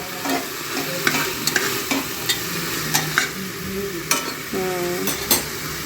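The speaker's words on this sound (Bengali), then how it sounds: "এখানে শুটকি কষানো হচ্ছে, কাঁচা মরিচ দিয়ে রসুন দিয়ে শুটকি কষাই" Dried fish (shutki) sautéing with green chili and garlic in a pan, a steady close sizzle broken by repeated scraping stirs and a few metallic clinks; no talking.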